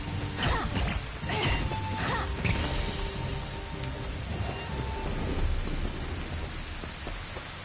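The Raindrops water spell cast in the Final Fantasy XV Platinum Demo, a loud rushing downpour with splashing bursts and low rumbles in the first few seconds, then a steady wash of rain-like noise.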